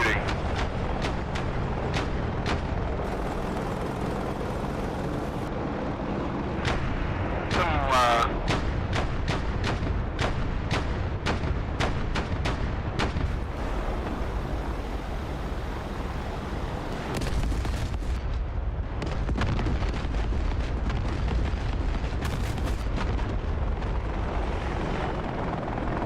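Gunfire and explosions from DCS World combat rumble through a busy military flight scene, with repeated sharp bursts and heavy booms over a steady helicopter-like engine drone, while voices talk over radio.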